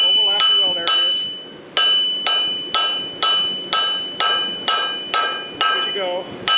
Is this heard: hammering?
yes